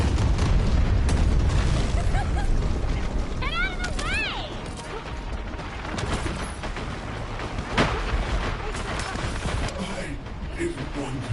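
Air support laying down suppressing fire in The First Descendant, with loud booming explosions and rumbling bursts throughout, heavy at the start and continuing under intermittent speech.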